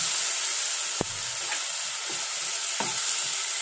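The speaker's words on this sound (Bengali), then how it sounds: "এটা দিয়ে আবার একটু আমি কষিয়ে নেব যাতে রসুন আর আদার গন্ধটা কেটে যায়" Loud, continuous sizzling as garlic, ginger and green chilli juice hits hot oil and is sautéed in a pan for prawn malai curry, with a few sharp spatula scrapes against the pan.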